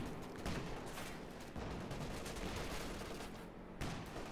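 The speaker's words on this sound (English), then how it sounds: "anti-tank guns trying to do some damage to the Panzer IV, but no luck" Anti-tank guns firing at a Panzer IV tank in Company of Heroes 2, a few faint, spaced, sharp reports over a dense battle background, with no talking.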